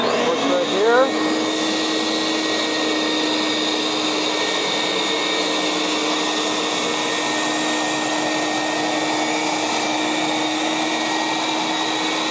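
A Bissell Big Green carpet cleaner runs steadily at close range with a constant whirring motor drone and high whine, switching on at the start and continuing unchanged throughout.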